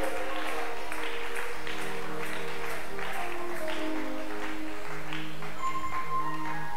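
A church congregation applauds to acclaim the Lord, with moderate, somewhat rhythmic clapping over sustained organ or keyboard tones that carry on throughout.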